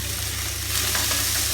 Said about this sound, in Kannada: ಈರುಳ್ಳಿನ ಸ್ವಲ್ಪ ಹುರಿರಿ.